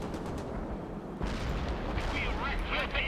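Rockets firing in the World in Conflict war game as a rumbling barrage of booms and blasts that suddenly intensifies partway through, with voices talking over the battle noise.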